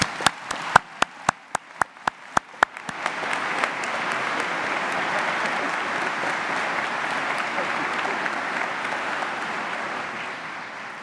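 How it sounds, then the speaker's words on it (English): Audience at a university spring commencement ceremony bursts into applause: a few sharp, separate claps first, then a dense, sustained wash of clapping from a large crowd filling the hall. "Let's give them a nice round of applause."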